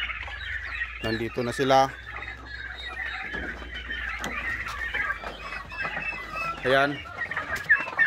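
Turkeys gobble and cluck in bursts, with chicken-like clucking mixed in, loud and close over a steady low farmyard hum on a ranch; a person briefly speaks.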